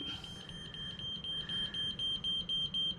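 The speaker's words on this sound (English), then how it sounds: "there's alarm going off, and I think that's on one of the displays" A Raymarine marine instrument display sounds a repeated electronic alarm, a steady series of short, evenly spaced high beeps heard alone over a faint background hum.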